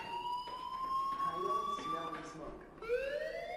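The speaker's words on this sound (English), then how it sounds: "do you hear that fire alarm? That means you should be outside." A fire alarm rings in the video game Life is Strange, a steady electronic tone that holds, dips briefly and then rises again. It sounds moderately loud within the room's ambience.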